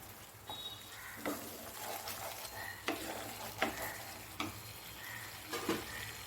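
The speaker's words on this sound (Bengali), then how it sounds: "আমি মশলাটাকে ভালো মতন লো টু মিডিয়াম ফ্লেমে আমি একটু কষিয়ে নেব" A spice paste fries on a low-to-medium flame for a duck egg korma, its faint steady sizzle broken by regular scraping strokes of a spatula roughly every second, with no talking.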